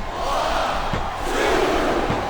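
A capacity arena crowd roars steadily in WWE SmackDown vs. Raw 2007 on PS2 during an Ironman exhibition match, a dense, loud, continuous cheer swelling slightly midway, with no commentary over it.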